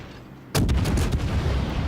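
Zao cruiser main battery firing in World of Warships, one sudden loud boom that rolls into a long rumbling tail after a quiet moment of ambient sea noise.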